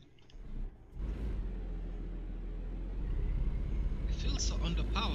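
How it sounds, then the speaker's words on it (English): A big truck engine in American Truck Simulator rumbles low and steady, rising slightly as it pulls away in first gear, while someone talks over it. "It feels so underpowered, but it's a very powerful engine."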